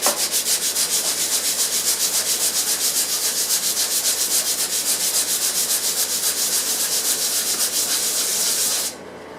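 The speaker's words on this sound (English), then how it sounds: "we're just going to hit it with some 220 grit now, just a little bit" Wood is sanded by hand with 220 grit sandpaper, giving a steady, rhythmic scratchy rubbing of quick back-and-forth strokes, close and loud, ending abruptly just before the end.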